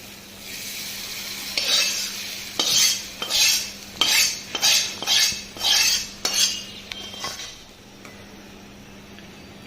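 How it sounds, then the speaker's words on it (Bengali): A spoon scrapes and clinks rhythmically against a pan, stirring hilsa fish in hot oil through about eight strong strokes, with a light sizzle underneath and no talking. "তো এটা চামচের সাহায্যে আমি ভালো করে নেড়ে চেড়ে নিচ্ছি।"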